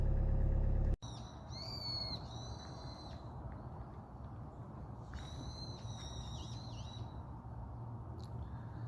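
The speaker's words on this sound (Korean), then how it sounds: "새소리 들리시지요?" Birds call repeatedly on a mountainside in the morning, clear high whistled notes in short bursts over a steady outdoor background hum.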